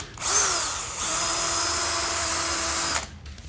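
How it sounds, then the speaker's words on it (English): A power drill bores through a guitar body for a string-through bridge, one sustained high whine lasting about two and a half seconds, close and loud, then winding down. "So now it's time to drill"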